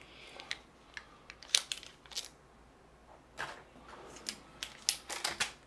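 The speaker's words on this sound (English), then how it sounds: "Magical scissors, here we go." Scissors snip and crinkle through tough plastic wrapping on a Magic: The Gathering booster pack, with irregular sharp cuts and rustles in clusters, close and fairly crisp, separated by brief quiet gaps.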